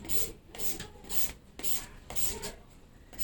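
A handheld shredder scrapes down a peeled papaya in close, rhythmic strokes, each rasping pass about half a second long, repeating steadily.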